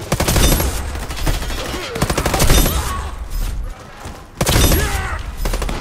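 Rapid automatic gunfire in a shooter video game, several dense bursts of quick repeated shots with brief pauses between, loud and close.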